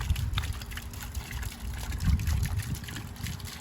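Water sprays and splashes from a 25W solar fountain pump running outdoors, a steady close trickling patter with no talking.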